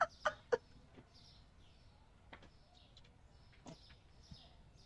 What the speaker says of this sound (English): There's chickens here